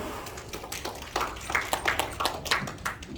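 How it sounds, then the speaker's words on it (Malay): A small audience claps after a talk, a loose scatter of hand claps, moderately close and fairly soft, thickening toward the end, with no speech over it. "Terima kasih, berikan tepukan."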